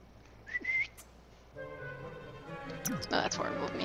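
A person gives a short rising whistle to call a companion over during a roommate challenge, heard once near the start and briefly again later, with other voices and game sounds around it.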